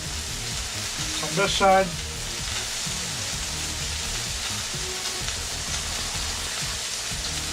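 Thick center-cut Iowa pork chops sizzle steadily in a hot pan, a constant close frying hiss throughout, with a brief spoken phrase and a short clatter early on over the crackle.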